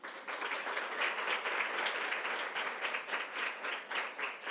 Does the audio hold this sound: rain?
no